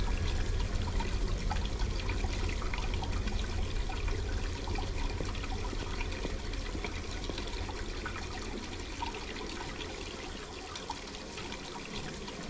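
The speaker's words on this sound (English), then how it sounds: "The water is boiling hot." Hot water runs in the Black Mirror 2 video game, a steady broadband splashing flow that holds on alone for the whole stretch and fades slightly toward the end.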